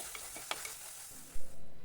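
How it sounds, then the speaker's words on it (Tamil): Ripe chopped tomatoes fry with softened onions for a meal maker gravy, a quiet, brief sizzle with a couple of light stirring scrapes and a dull knock of the pan near the end. "பழுத்த தக்காளியை நான் கட் பண்ணி வச்சுருக்கேன்"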